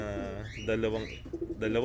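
Pigeons cooing softly and continuously nearby in a breeding loft, low rolling calls overlapping, with a voice speaking underneath.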